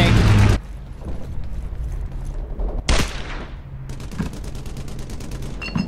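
Rapid bursts of World War II gunfire in the shooter Brothers in Arms, a loud opening volley, another sharp burst midway and scattered shots trailing off, with battle din underneath.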